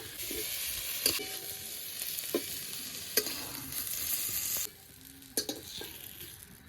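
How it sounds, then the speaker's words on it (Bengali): Fried eggplant pieces are lifted out of hot oil in a kadai, a steady crackling sizzle running under several sharp clinks of a utensil against the pan, the sizzle dropping quieter near the end. "বেগুনটাও আমি খুব ভালো করে লাল লাল করে ভেজে নিয়েছি। এখন বেগুনগুলো উঠিয়ে নিচ্ছি।"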